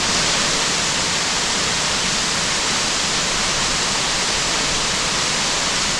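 A steady, loud rush of creek water flowing over rocks in the Shining Rock Wilderness fills the air, an unbroken hiss nearby. No talking.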